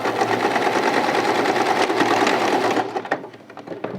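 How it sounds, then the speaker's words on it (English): Domestic sewing machine stitching an angled seam in fabric: a steady, fast mechanical whirr running close and loud for about three seconds, then stopping, followed by a few faint handling clicks. "now you sew an angle"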